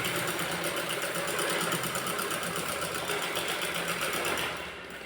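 A sewing machine stitches a line on net fabric for a kurti neck, running loud and steady with a fast, even mechanical chatter, then slowing and fading at the very end.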